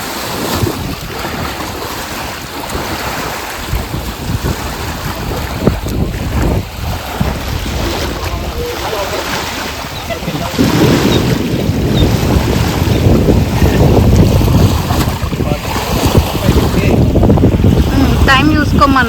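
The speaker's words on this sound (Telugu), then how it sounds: "ఒకసారి మీరు చూడండి ఈ అలలు ఎంత స్ట్రాంగ్గా ఉన్నాయో." Strong sea waves at a Vizag beach roar and crash continuously close by, building louder in the second half, with heavy wind buffeting and a voice talking over the surf.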